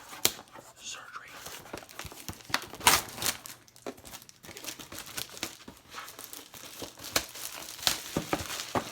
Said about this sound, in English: we're going to cut the plastic off.